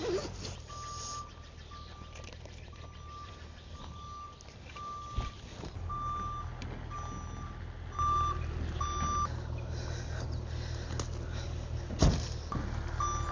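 A truck's backup alarm beeps in a steady, evenly spaced rhythm over a low engine rumble, with a few clunks and thumps along the way.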